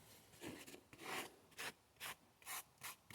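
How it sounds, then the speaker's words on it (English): A metal file rasps fine shavings for fire starting in a series of quiet, regular strokes, some irregular rubbing first and then about six crisp scrapes in an even rhythm. "you can take this and you can make your little fine shavings here."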